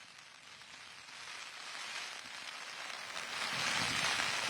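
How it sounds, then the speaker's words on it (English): Heavy rain pours steadily outdoors during election coverage in Edo State, a dense, continuous hiss of drops that swells slightly louder toward the end, with no voices over it. "I see it's raining very heavily there"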